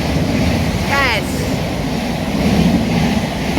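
A Class 700 electric train passing through a station, a steady rushing rumble with brief rising squeals, close and loud, with voices faintly underneath.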